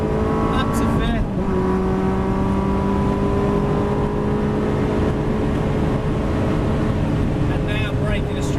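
A Ferrari accelerates flat out down a Grand Prix straight, its engine a loud, sustained drone with rising harmonics, a gear change early on, and a steady roar held through to the end.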